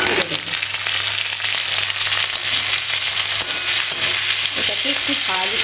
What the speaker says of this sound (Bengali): তো প্রথমে আমি এই ডুমো করে কাটা ক্যাপসিকামগুলো এই তেলের মধ্যে ছেড়ে দেব।